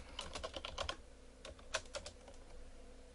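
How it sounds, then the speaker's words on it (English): A computer keyboard clicks in quick bursts as a short command is typed, a rapid run of close keystrokes, a pause, then a few more scattered taps, quiet and with no talking. "And so we'll type go right."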